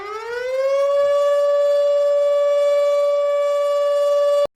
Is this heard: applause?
no